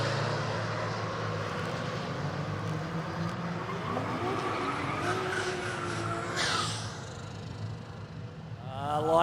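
Renault hot hatch and VW Golf GTI drag racing at a road-trip drag challenge event: steady engine roar with rising revs midway, a sharp harsh burst near the end, and another engine climbing in pitch at the close.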